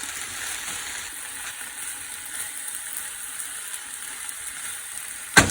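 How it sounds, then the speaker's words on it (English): Chopped garlic sizzling in a stir-fry pan with no wok, a steady quiet hiss of frying oil throughout, ending in a sudden sharp clink near the end. "And I'm throwing my chopped garlic in now."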